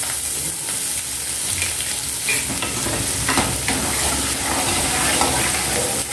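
Onions hit hot tempering oil with mustard seeds, hing and curry leaves, making a loud, steady sizzle with faint crackles and stirring throughout.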